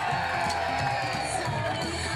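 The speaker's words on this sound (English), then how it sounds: "Come on, give them a big round of applause." A crowd roars and cheers for Rathkeale after the 2011 Limerick junior football final against Glin, a continuous loud wash of applause with shouting voices mixed throughout.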